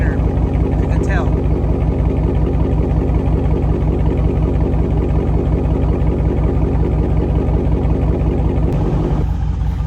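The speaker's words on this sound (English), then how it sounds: "exhaust note is there, but it's gotten quieter, you can tell." A car's active exhaust running in its quieter mode, a steady, close, rhythmic low burble idling throughout while someone talks over it.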